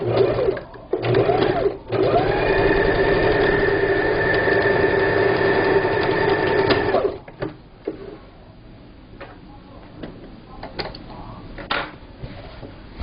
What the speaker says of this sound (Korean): 두줄 박음질 한 거를 이렇게 마무리한 거를 다시 원판하고 맞덮어서 박음질 하시면 되겠습니다